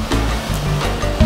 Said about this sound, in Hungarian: A hullámok zúgása, a robaja, ahogy az óceán ereje a szikláknak csapódik